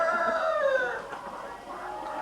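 Brown roosters and white hens cluck and call inside a laying house holding about 700 birds, with one clear rising, crowing-like cry up close, followed by busy background clucking.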